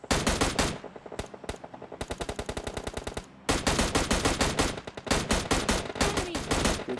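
Rapid automatic gunfire in PUBG Mobile Lite, in a 28 vs 28 Turkey versus Russia match: long loud bursts of dense shots with brief gaps and a pause midway, close and dominant.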